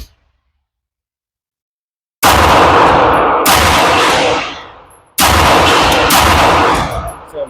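Three loud, sharp gunshots from an Alpha Foxtrot Romulus 2011 pistol at an outdoor range, each followed by a long echoing tail, after a couple of seconds of silence.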